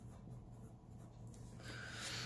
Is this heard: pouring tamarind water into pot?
no